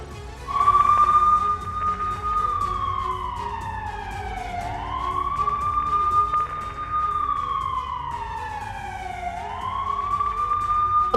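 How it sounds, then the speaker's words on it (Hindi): Wailing emergency siren rising and falling in long sweeps, a steady loud cycle over a low rumble of distant traffic, heard during an attack on Kyiv. "पहली तस्वीरें में मैं चाहूंगा सायरन ऑन रखें इसमें"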